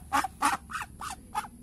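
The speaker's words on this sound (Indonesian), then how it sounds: "Kalau entok bunyinya begini tuh, dia bunyinya nggak nyaring kayak bebek." Five hoarse, breathy calls from a Muscovy duck, spaced in a quick rhythm, close by and fairly soft, softer and less ringing than a common duck's quack.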